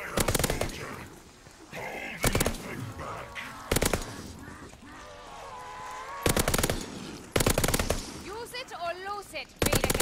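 An LMG firing in the video game Call of Duty: Vanguard, loud repeated bursts of rapid shots scattered through the clip, mixed with other game sounds and cries.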